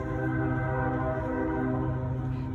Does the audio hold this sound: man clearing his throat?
no